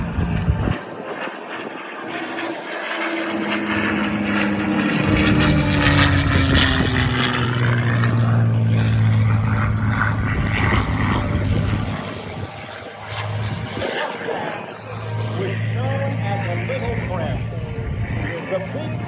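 A propeller aircraft, a B-24 bomber at an airshow at Willow Run Airport, drones loudly overhead with a rising and falling engine roar, while a voice talks over it.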